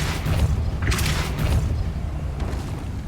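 A Depulso force-push spell is cast in a Harry Potter wizarding video game, heard as a loud low boom with whooshing bursts over a rumbling game soundscape, lasting a few seconds.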